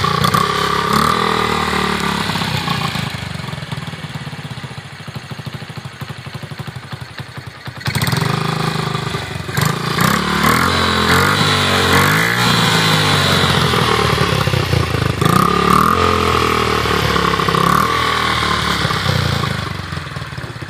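A 2002 Honda XR50R dirt bike converted to CRF50F spec runs close by, its small single-cylinder engine idling with a loud buzzing clatter, then revving up and holding a sustained rasping roar.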